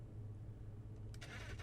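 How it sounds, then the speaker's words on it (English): Car engine starter cranking in the BeamNG.drive driving game, version 0.10, a brief burst of whirring that comes in late over a steady low engine rumble, loud and close with no talk. "The engine now actually has a starter sound."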